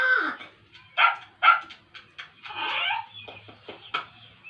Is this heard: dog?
yes